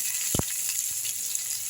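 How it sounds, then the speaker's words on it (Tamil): Mustard seeds and urad dal frying in hot oil for a South Indian curd vada tempering, a faint steady sizzle and hiss with one brief knock near the start. "இது நல்லா பொரியட்டும்."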